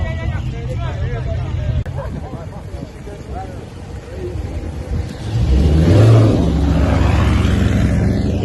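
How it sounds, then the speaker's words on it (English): Dodge Hellcat engine at a car meet, a loud rising rev swelling up partway through and holding strong over crowd chatter and nearby talk. "look at that Hellcat"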